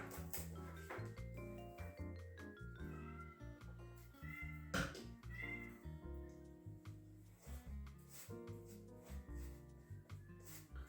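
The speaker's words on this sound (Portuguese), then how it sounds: "ela já tá aqui de novo, miando" A cat meows repeatedly in a kitchen, loud and close, while dishes and small objects clink intermittently around it.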